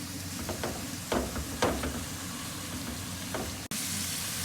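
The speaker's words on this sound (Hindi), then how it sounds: "मैं स्पैचुलर की मदद से कीमे को फैला रही हूँ" Minced meat (keema) frying in a pan while a spatula spreads it: a steady sizzle with several soft scraping strokes, then a short break before the sizzling resumes.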